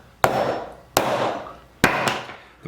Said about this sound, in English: you get the knife set and start doing the hammering